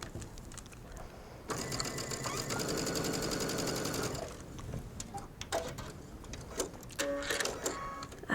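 A sewing machine stitches a pressed mesh sleeve hem in a steady rapid mechanical run lasting a few seconds, then stops, followed by scattered clicks and handling noises.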